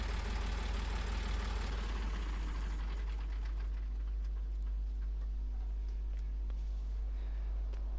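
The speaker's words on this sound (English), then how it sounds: "I'll park the tractor back" A small farm tractor's diesel engine idles steadily with a deep, constant rumble and faint ticking knock, loud and close.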